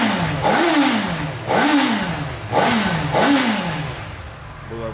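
A new motorcycle engine revving repeatedly, four strong throttle blips rising and falling in pitch at a steady rhythm, loud and close, with a clattering mechanical edge and no talking.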